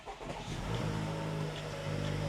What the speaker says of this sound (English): So let me turn the car on.